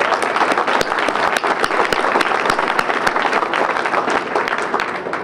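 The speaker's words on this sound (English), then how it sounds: "Let's give them all a round of applause," A crowd at a Tampa International Airport announcement of new nonstop flights to Germany applauds loudly and steadily, a dense wash of clapping that holds at full level throughout without a break.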